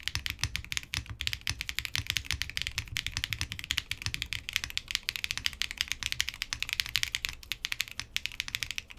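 A QK65v2 mechanical keyboard in top mount and gasket mount setups is typed on in a fast, continuous stream of clacky keystrokes, close and fairly quiet, with no talking.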